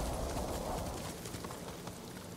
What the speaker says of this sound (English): Drifting road on horse.